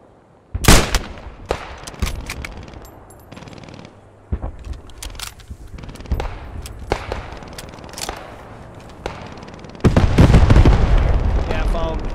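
Gunfire from an MG42 machine gun in a World War II shooter game, sharp cracking shots scattered irregularly with a louder sustained burst of rattling fire near the end.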